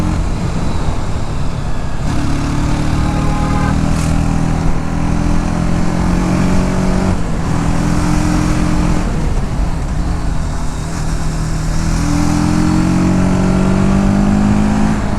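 TVS Apache RTR 310 motorcycle engine while riding on the road, a loud continuous drone that rises in pitch through several gear changes, with wind rush throughout.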